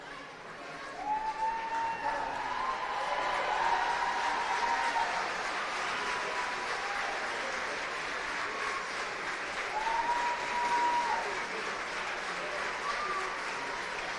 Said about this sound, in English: And she's getting a round of applause.